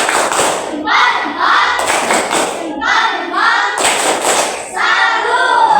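A classroom group of children clapping together for the tiger group, several bursts of rhythmic claps separated by short pauses, loud and close with voices mixed in.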